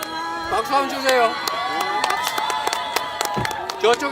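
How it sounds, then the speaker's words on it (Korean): Bursts of applause and claps from a crowd greeting South Korea's president alongside the Japanese prime minister, mixed with voices and shouts, close and lively in short uneven surges. "박수 한번 주세요"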